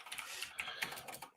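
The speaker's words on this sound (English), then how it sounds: "I love that sound. The mechanical keyboard." Soft, quick clicking keystrokes on a mechanical keyboard patter in an uneven run, faint and close, with no voices over them.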